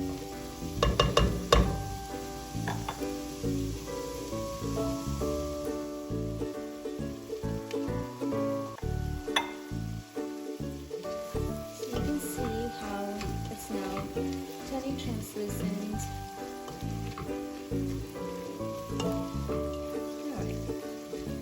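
Spices and vegetables for vegetable fried rice sizzle in a pan as they are stirred, a steady crackle under tonal background music with brief louder bursts near the start.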